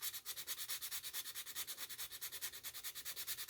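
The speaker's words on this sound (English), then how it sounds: "We don't want to sand it so much that it starts losing something." Steady back-and-forth sanding strokes on a hand-sculpted piece, roughly eight rapid rhythmic rubs per second, close and fairly loud with bright abrasive scratching and no talk.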